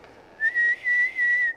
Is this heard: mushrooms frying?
no